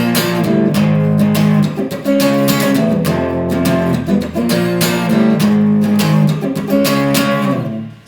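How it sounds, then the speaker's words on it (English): Electric guitar plays a full riff, loud and close. Strummed power chords drive a steady rhythm with muted scratch strokes between them, and no voice is heard. "And the whole riff together sounds like this."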